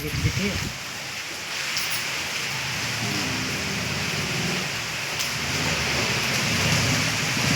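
Steady rain falls outdoors with a dense, even hiss that continues for several seconds.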